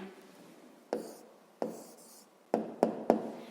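A pen writes a maths answer on paper, several short quiet scratching strokes with small taps in between, close and alone.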